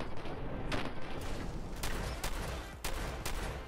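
Shotgun blasts in the video game Fallout 4, several sharp broadband shots spaced irregularly over a dense, noisy game background of gunfire and effects.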